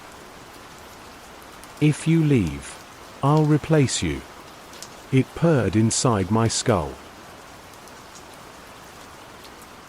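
Heavy rain pours steadily as a continuous wash of noise, with a voice speaking over it in short bursts.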